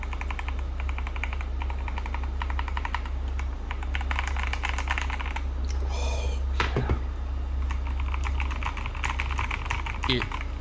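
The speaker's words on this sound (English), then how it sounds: "It's honestly one of my favorite parts about this keyboard is just the sound of the keyboard." Typing on a Redragon K617 mechanical keyboard with pre-lubed linear switches, rapid close keystroke clicks in bursts over a steady low hum, with brief noises in between.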